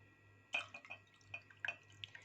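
Water pours into a glass already holding about a quarter cup of milk, giving soft, close trickles and light drips at low volume, with no talking.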